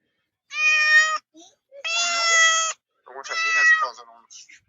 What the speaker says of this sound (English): Oh, we caught the cat.